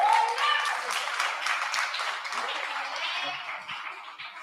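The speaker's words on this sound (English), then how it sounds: "Another round of applause." Audience applause following a performance at the Nomhle Nkonyeni Legacy Festival, dense clapping sustained throughout at a steady, fairly loud level, slowly easing toward the end.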